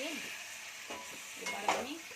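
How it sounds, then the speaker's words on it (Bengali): Chicken leg pieces and biryani spice masala fry and get stirred in a pot, a soft sizzling hiss with a few spoon scrapes over a couple of seconds, fairly quiet and close. "মশলাটা একটু হালকা কষে নিয়ে"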